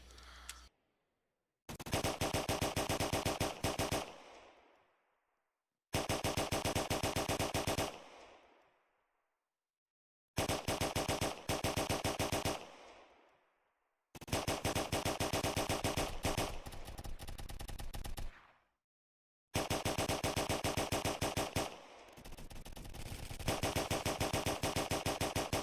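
Automatic gunfire from hip-firing a weapon in the Phantom Forces video game on the Baseplate stage: five loud sustained bursts of rapid shots separated by short silences, each trailing off briefly.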